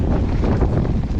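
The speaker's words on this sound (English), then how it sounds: "It's too windy." Strong wind buffets the microphone on a blustery day at Llandegla, producing a loud, continuous low rumble and roar throughout.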